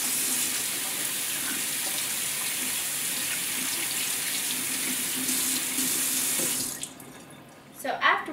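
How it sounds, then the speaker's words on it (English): Hands are washed under a running tap. Water streams steadily and close for about seven seconds, then cuts off, followed by a brief splash and some handling sounds. "So after we wash our hands"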